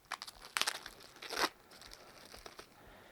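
Plastic bag packaging crinkles and crackles as a Saramonic UwMic9s lavalier microphone is unpacked, with a few quick rustles and then a louder, longer crunch of bag handling up close. No one speaks.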